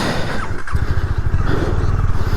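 A KTM Duke 250 motorcycle idles and burbles close by with a rapid, pulsing low thrum, its ABS switched off, the engine note steady and loud with no talk.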